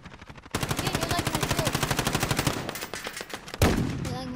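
Gunfire in the video game Call of Duty, a sustained rhythmic automatic burst of rapid evenly spaced shots, loud and close, followed by a heavier blast near the end.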